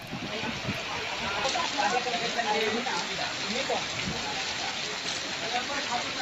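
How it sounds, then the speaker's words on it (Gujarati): Heavy rain pours steadily with a dense, continuous hiss, gusts of wind roaring beneath it throughout, on Tithal beach in Valsad, Gujarat, during unseasonal rainfall. "બીચ પર ભારે પવન અને વરસાદી માહોલ સર્જાયો છે"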